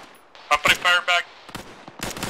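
Squad rifle and machine-gun fire returned toward an enemy Vodnik vehicle in the Arma military game: several sharp, close bursts in quick succession, then a pause and more scattered shots, with someone talking between them.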